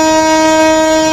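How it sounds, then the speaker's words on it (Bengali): A Bangladesh Railway passenger train departing sounds a loud, sustained horn, a steady unbroken tone held for the whole moment with no voices. "অলরেডি ছুটে চলেছে, আমার ধারণা চলে যাচ্ছে এই ট্রেনটি।"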